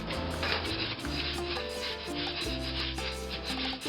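Rice toasting in a pan for Mexican rice gives a steady, close, dry scraping and rustling as it is stirred continuously, with no talk.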